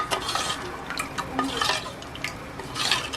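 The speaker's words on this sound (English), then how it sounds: "Then once I'm pouring, I'm gonna make sure that I stir completely without stopping" Custard poured into a pot of boiling milk and stirred without stopping, giving repeated soft scraping and swishing strokes with light liquid sloshing, close and clear.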